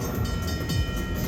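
Train sound effect from the Railroad Riches slot game, a loud continuous rumbling rail roar with a rhythmic rolling pulse, dense and steady throughout, with no talk.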